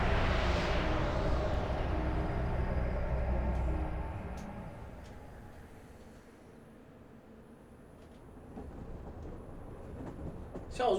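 A faint, steady rumble of a train ride in the video game Pokémon Legends Z-A, dipping quieter midway and rising again, with no talk.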